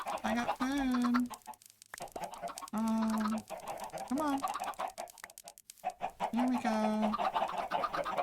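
Minecraft chickens on a farm cluck in repeated squawky bursts, fairly loud and close, overlapping one another over a steady game background while someone talks briefly.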